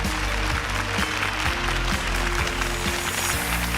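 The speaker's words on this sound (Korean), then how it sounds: "여러분 큰 박수 부탁드립니다" An audience at a library book-concert lecture applauds at the close, producing a dense, continuous clatter of clapping with faint rhythmic low thumps underneath and no voices.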